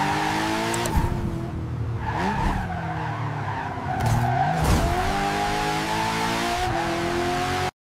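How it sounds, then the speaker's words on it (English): An AI-generated rally car tears through city streets, its engine revving hard while tires squeal and skid in loud, continuous bursts with no one speaking. "a rally car tears through the streets"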